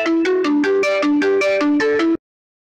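A mobile phone ringtone plays a bright, repeating electronic melody of evenly spaced tones, loud and close, running for about two seconds before cutting off abruptly into silence.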